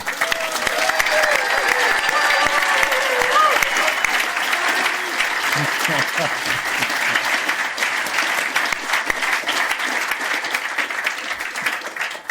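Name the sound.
audience applause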